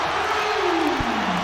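A basketball arena crowd roars after an Arkansas three-pointer, a loud, steady wash of cheering and yelling that fills the short moment without letup.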